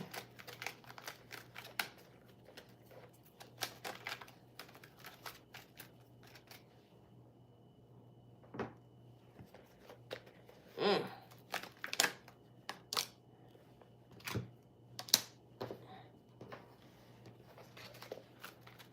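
Tarot cards shuffled by hand, a faint crisp riffling and sliding of card stock with scattered soft taps, sporadic bursts over a low steady hum in a quiet room.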